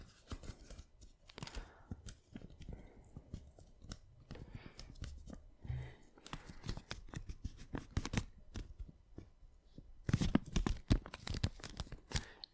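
Paper being folded into an origami bird in a quiet ASMR setting: close, soft creasing, crinkling and rustling, with faint scattered taps and a louder burst of crinkling near the end.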